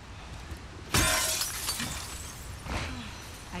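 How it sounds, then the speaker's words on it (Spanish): Glass shards crunching and breaking underfoot in The Last of Us Part II, one sharp loud shattering crash followed by a few lighter crunchy steps over debris. "Hay cristales."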